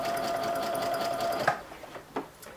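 Sewing machine running steadily as it stitches thin lingerie elastic onto the opened, flat side seams of homemade underwear, a continuous close whir for about a second and a half, then stopping, followed by a few soft handling taps.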